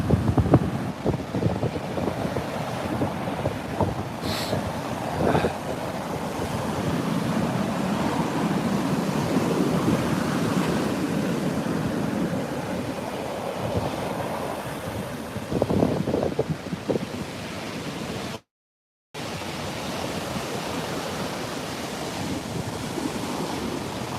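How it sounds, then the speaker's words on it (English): Ocean waves break on a shore with a continuous roar. Bursts of wind buffet the microphone, a brief dropout interrupts it near the end, and no voices are heard. "look at these waves"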